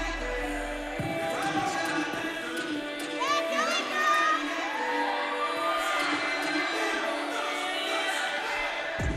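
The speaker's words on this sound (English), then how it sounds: "I can hear a lot of the crowd above me, who must be family or friends of the people out here." Crowd of family and friends cheers and whoops from the stands at a team dance competition, a dense, busy roar of voices with rising shouts and whistles over music.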